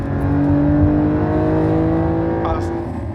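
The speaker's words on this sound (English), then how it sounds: "3-litre, turbocharged, flat 6. This is the same powertrain you get in the Carrera Ford GTS." Porsche 911 with a 3-litre turbocharged flat-six, driven off-road, holding a steady loud engine drone with layered harmonic tones throughout, a slight rise in pitch near the end, and talk partly mixed in.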